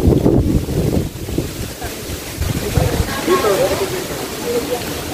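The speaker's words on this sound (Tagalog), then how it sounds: "Malakas yung hangin." Strong wind at a breezy hillside swimming resort in Batangas buffets the microphone, a loud continuous roar with gusty low-end bursts throughout.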